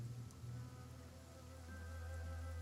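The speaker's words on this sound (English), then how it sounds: "It is still raining" Quiet, steady rain hisses in Pathfinder: Kingmaker, with a low rumbling drone beneath the soft, even patter.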